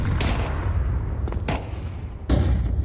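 Grenade blasts in Counter-Strike on the Inferno map during a Major esports match: two or three broad booming bursts spaced across a few seconds, loud over a constant low rumble of game ambience.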